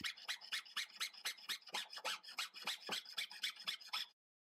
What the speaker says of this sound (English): Using your jeweler's handsaw keeps the pieces of metal nice and flat.